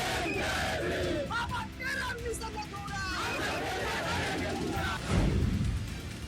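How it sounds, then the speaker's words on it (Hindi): A protesting crowd carrying sticks chants slogans during a Bharat Bandh street demonstration in Bihar, a loud, dense mass of shouting voices with babble throughout and a sharper surge of cries near the end. "हाथों में डंडा लेकर नारे लगाती भीड़"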